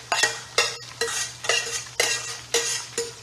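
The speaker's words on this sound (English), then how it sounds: "So while this is frying, now we're going to put our blended habanero peppers, ginger, garlic" Blended habanero peppers, ginger and garlic fry with tomatoes and onions in a pan, loud bursts of sizzling and scraping stirs repeating about every half second in a steady rhythm, with no talking.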